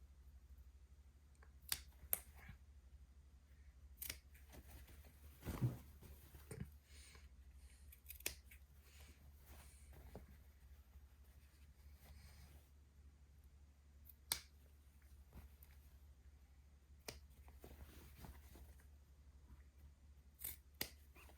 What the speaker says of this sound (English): I don't try to clip the whole buttonhole at one time because I'm too afraid that I will cut the zigzag of the buttonhole stitching itself.